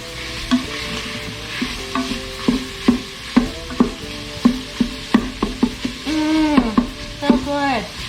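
Onions and garlic fry in an Instant Pot while a utensil stirs them in a quick series of squeaky, scraping strokes over a light background sizzle, close and without talk.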